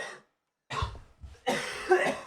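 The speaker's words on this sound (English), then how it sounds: "cough break." Coughing during a podcast-style chat comes as three separate bursts: a short cough that cuts off, then after a pause a rougher cough with throat clearing, and a final, louder hacking cough nearby.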